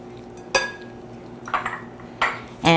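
Spoon scraping and clinking against a pot while stirring sugar and cocoa together, a few distinct metallic knocks and scrapes spaced apart, close and fairly clear over quiet background hum.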